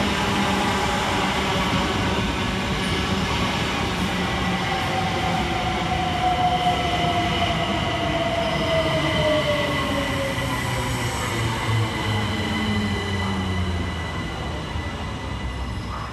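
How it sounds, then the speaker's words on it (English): Two Southeastern Class 375 electric units coupled together arrive at Gillingham station in Kent, a steady rolling rumble with faint wheel squeal and rail noise building and gliding past, loud and continuous throughout. "Arriving next around the corner is 375925 and 375830 with the 1701 Southeastern service from London Victoria to Dover Priory"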